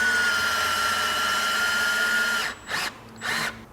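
Cordless power tool driving a screw into a Vespa GTS topcase mount, a loud close whirring drill run for a couple of seconds followed by two short bursts.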